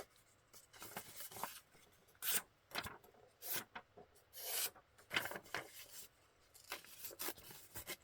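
Brown paper being folded and torn along its edge for a junk journal card, with several quiet crinkling rustles and short ripping bursts in irregular bursts, close and soft with no talking.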